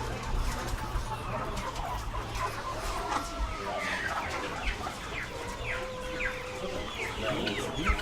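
Live poultry clucking in a halal live-bird slaughterhouse in Queens: many chickens cluck and squawk together in a busy, echoing room, with a steady background hum and occasional rooster-like calls over continuous noise.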